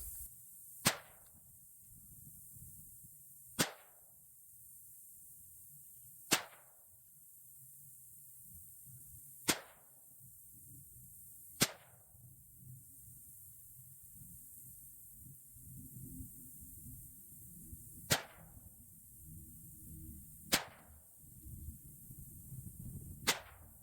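Savage .22 magnum rifle fired at a range, eight sharp cracks spaced a few seconds apart, loud and close against a low outdoor background hum.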